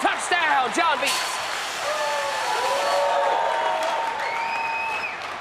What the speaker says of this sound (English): if you pay attention to the crowd, it almost sounds like John Beast has a home game